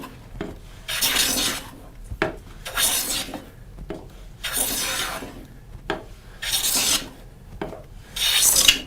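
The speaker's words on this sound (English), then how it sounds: "I'm going to take a pretty heavy shaving here." A hand plane takes heavy shavings off oak in five or six long, loud rasping strokes, each separated by short pauses and small clicks.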